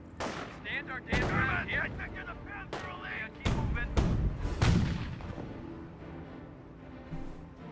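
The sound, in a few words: artillery and gunfire in the video game Company of Heroes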